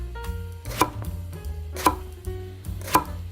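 A knife slices an eggplant into round pieces on a cutting board, giving three distinct, evenly spaced chops against a soft background hum, close by and with no talk.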